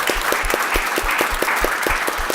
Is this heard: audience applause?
yes